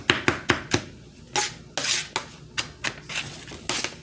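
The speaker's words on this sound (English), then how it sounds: "These are the onions that I'm cutting up to go in the meat" Onions being cut up for meat with a knife on a board, a series of sharp close chops, fast at first and then spaced out, with no talking.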